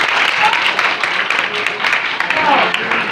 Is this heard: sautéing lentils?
no